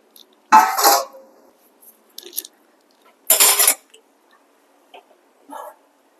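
Besan flour is stirred and roasted in ghee in a pan, making a few short scraping and clinking bursts separated by quiet gaps.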